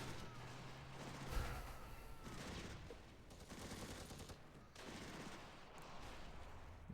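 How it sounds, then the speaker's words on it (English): Gunfire in a firefight from the Close Combat video game, with repeated bursts and distant rattling shots at a low level, rising and falling in waves over several seconds. "this firefight goes on for some time after this"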